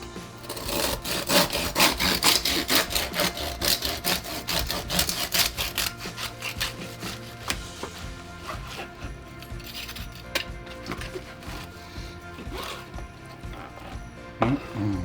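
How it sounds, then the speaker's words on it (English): A serrated knife saws back and forth through cured meat in quick rhythmic rasping strokes, close and distinct, slowing toward the end with a few light clinks. "let's use a serrated knife just to trim this off"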